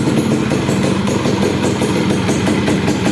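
A Yamaha F1Z R motorcycle engine idles close by, loud and steady with a fast, even putter and no talk over it.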